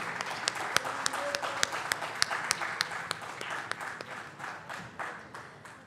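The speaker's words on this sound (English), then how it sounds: "Everybody, please give a huge round of applause to ma'am." An audience applauds a woman being honoured on stage at a handloom fireside chat event, with crisp, fairly regular claps standing out over a broader wash of clapping that slowly fades toward the end.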